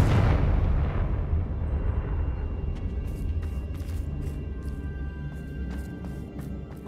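Confringo blasting spell explosion in the Hogwarts Legacy video game: a loud, deep blast that slowly rumbles away, followed by faint scattered clicks and debris ticks.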